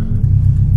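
Subaru STI engine on a winter drift run, a steady close low rumble that holds loud and even for under a second with no talk.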